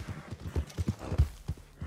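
Horse hooves clip-clop in rhythmic, fairly soft beats during an online horse race in Red Dead Redemption 2, with a few irregular thuds.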